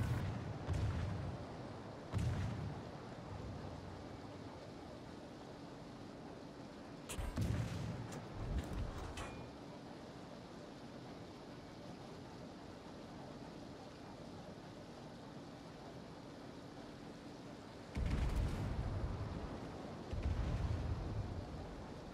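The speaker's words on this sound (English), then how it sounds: "we have a Bliskaviska opening fire on a Skane" Naval gunfire from a Bliskavitsa destroyer engaging a Skane in World of Warships: a few separated deep booming salvos, loud against a low, steady sea-like ambience.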